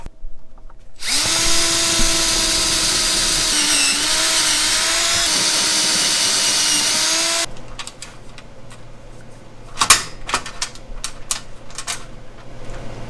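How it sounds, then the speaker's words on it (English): A power drill whines loudly and steadily for several seconds, then stops, followed by clattering and knocks of handling tools nearby. "We're gonna have to either drill more holes or make an adapter."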